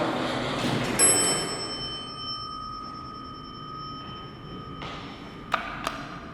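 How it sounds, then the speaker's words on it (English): A bright chime rings once from a vintage 1970s Dover hydraulic elevator at a Dillard's store in Scottsdale Fashion Square and fades slowly over a steady mechanical hum, followed later by a couple of faint clicks. "And there's the bell again."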